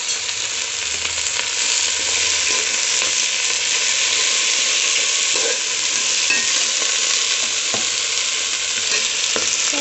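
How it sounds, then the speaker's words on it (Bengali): Chopped Malabar spinach stir-fried in a pan with ginger and garlic paste makes a loud, continuous sizzle, broken by the soft scrape and shuffle of stirring. "সব পুঁই শাকগুলো আমি দিয়ে দিলাম"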